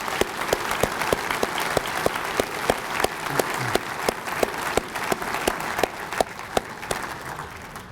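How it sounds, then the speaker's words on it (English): An audience at the Corvette Hall of Fame induction claps steadily and loudly for several seconds, with a few sharper individual claps cutting through the dense applause. "How about a nice round of applause?"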